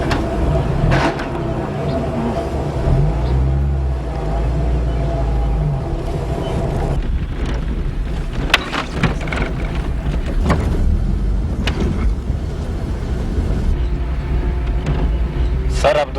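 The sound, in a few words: vehicle engine started and revving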